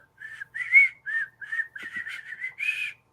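A person whistles a short tune of about eight clear, steady notes in a bouncy rhythm, close and alone with no talking.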